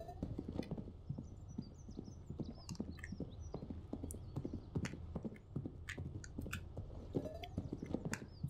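Rapid, rhythmic hoofbeats of a horse galloping, steady and close, with occasional snorts and faint game-like effects in the background.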